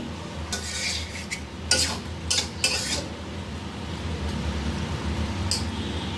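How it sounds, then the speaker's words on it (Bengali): Coconut milk poured into a pot of raw jackfruit curry, with steady scraping and stirring of a utensil against the pot and a few sharper metallic clinks over a low background hum. "এখন আমি দিয়ে দেব নারকেলের দুধ অর্ধেক নারকেলের দুধ করে রেখেছি"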